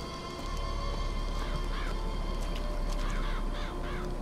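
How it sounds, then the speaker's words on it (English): Crows caw several times in the Bioshock Infinite video game, rough calls that stand out faintly over a dense, loud bed of steady ambient game noise and rumble, with no voices. "Oh, I see birds over there."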